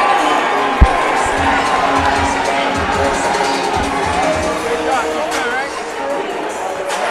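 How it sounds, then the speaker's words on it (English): A packed Cage Titans fight crowd cheers and roars continuously, loud and dense from start to finish, with one sharp thump early on. "Listen to this crowd right now. Yeah. They are eating this up."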